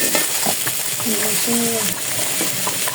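Ginger and green chili paste frying in a pan gives a steady, close hiss of sizzling, with a few brief tonal sounds rising over it midway.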